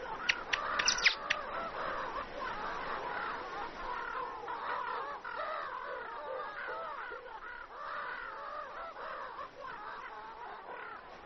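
Many egrets call in a mangrove forest at morning, a dense chorus of harsh, overlapping croaks and squawks carrying on continuously, with a few sharper high calls near the start.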